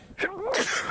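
A single sharp human sneeze bursts out close by, with a quick intake followed by a loud, breathy explosive release lasting under a second.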